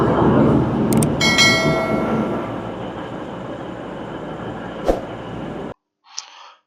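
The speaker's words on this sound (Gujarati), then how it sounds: "મિત્રો, ટ્રેન આવી ગઈ છે, બસ હવે અંદર બેસીએ છે." A passenger train in Victoria, Australia, bound for Geelong: a loud, close rumble of rolling carriages with brief squeals and a sharp clunk, which cuts to near-silence and then a short faint sound.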